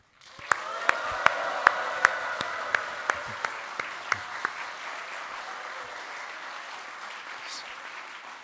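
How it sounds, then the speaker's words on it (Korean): A church revival congregation welcomes the pastor with steady applause and cheering, a few sharp, loud claps standing out near the front during the first half before the crowd noise carries on alone. "우리 열화와 같은 함성과 박수로 3배는 더 큰 소리와 박수로 맞아주시길 바랍니다"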